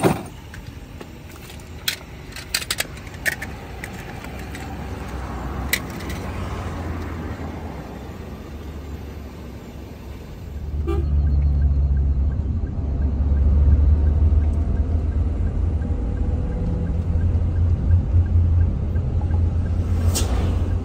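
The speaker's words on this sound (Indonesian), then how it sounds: "Harus dimundurin dulu nih HiAce-nya baru kita bisa jalan." A Toyota HiAce van reversing out of a parking lot at night, its low engine rumble rising and holding steady in the second half, with light jingling and clatter earlier over a quiet background.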